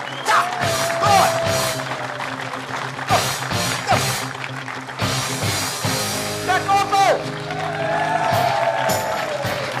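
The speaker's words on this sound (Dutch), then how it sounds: "Jouw ze een groot applaus." A village crowd in Wytmarsum cheers and claps for its youth champions, with loud whoops and voices mixed into the applause; a host's amplified voice and music run through the noisy, festive scene.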